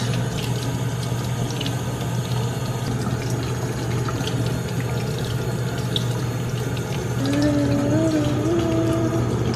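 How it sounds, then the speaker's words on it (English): Peeled tomatillos are rinsed under a running tap, a steady, fairly loud rush of water that continues throughout, with a rising whine from the plumbing near the end. "Okay, let's rinse these babies out."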